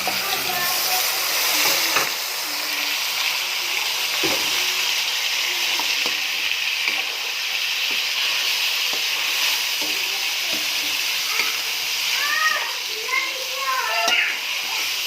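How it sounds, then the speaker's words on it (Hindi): Oil sizzles steadily as green chillies fry in a pan for aloo gosht, a constant close hiss with occasional stirring taps while a person talks. "हम थोड़ा सा इसको और फ्राई करेंगे, और फिर इसमें अब जाएगा चिकन।"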